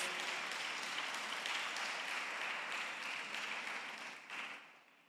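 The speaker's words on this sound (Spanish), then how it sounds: "Si le va a dar palmas al Señor, dale palmas fuertes a nuestro Dios." A church congregation claps hands in praise during a sermon, a dense, steady wash of applause heard at moderate distance that fades out toward the end.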